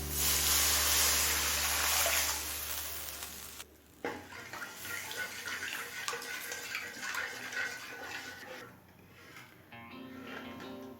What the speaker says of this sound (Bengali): এবার গরম জল দিয়ে দিচ্ছি।